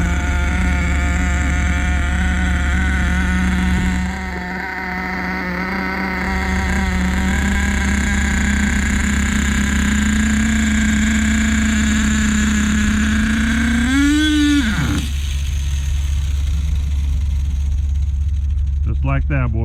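A custom Bouncer truck engine on its first start and break-in rises from a steady idle into a higher wind-up, its pitch climbing and then dropping away, with a continuous loud drone throughout and voices talking over it.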